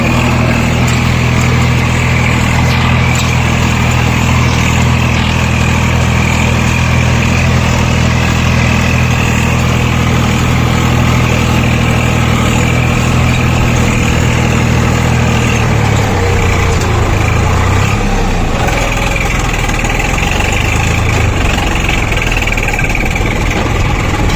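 An 855 tractor engine pulls a seed drill during wheat sowing, a loud, close, steady diesel drone with a heavy low throb that shifts in pitch partway through as the load changes.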